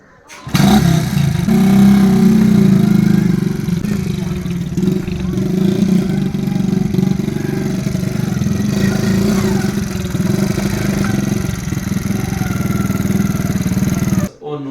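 A qingqi motorcycle rickshaw engine hums in a loud, steady, close drone that runs unbroken for most of the stretch, with people talking over it.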